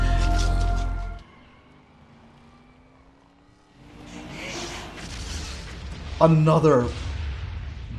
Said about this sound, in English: great piece of stunt work and an excellent explosion